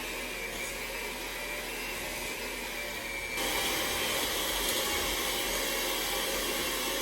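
An electric mixer on low speed whirs steadily through cheesecake batter with added sugar, a constant loud motor drone that grows louder partway through.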